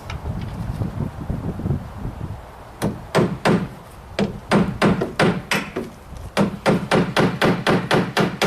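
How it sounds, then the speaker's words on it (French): A 70 mm nail is hammered into wooden formwork for a precast beam: after a few soft knocks, a brisk series of sharp, evenly paced hammer strikes rings out close by, speeding up toward the end with light wind noise underneath. "Je vais mettre un clou de 70."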